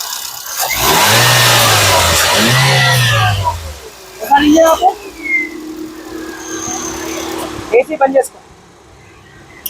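A 2011 Nissan Sunny XL petrol car engine revs in two rising pulls, then settles to a steady idle, with someone talking over parts of it, close by.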